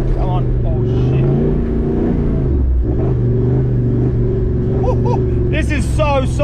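A four-wheel-drive vehicle labours through soft beach sand on an Australian solo camping trip, its engine droning loud and steady with strained revving throughout, while people talk over it.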